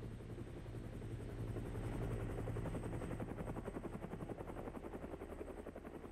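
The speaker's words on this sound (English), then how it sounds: "now the plane shows up" Aircraft engine drone in a zombie monster robot video game, a loud steady rumble with rapid pulsing like rotor or prop beats, passing overhead alongside game noise with no talk.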